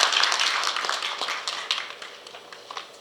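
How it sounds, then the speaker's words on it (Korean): A small crowd at a book launch event claps for a few seconds, the applause loudest at the start and gradually thinning out. "박수로 모시겠습니다."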